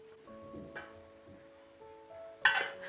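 A lid is set onto a cooking pan of onions and broad beans, a sharp metallic clatter near the end after a few quieter clinks and faint kitchen hum.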